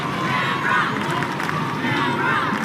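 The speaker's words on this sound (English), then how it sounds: "Crowd here at GIO Stadium absolutely itching for a goal" A large crowd at GIO Stadium during a women's football semi-final between Canberra United and Melbourne City, a dense, steady roar of many distant voices with a few swelling cheers.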